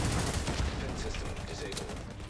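Rapid gunfire crackles through the Division 2 video game during a raid, dense and steady bursts of shots filling the whole moment.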